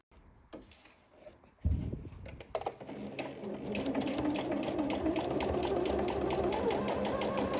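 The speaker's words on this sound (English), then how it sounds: "Now I keep sewing straight, stretching the fabric from pin to pin." Sewing machine stitching jersey fabric with a stretched elastic waistband; after a few soft clicks and handling noises, a steady, close, continuous mechanical whir runs through the second half.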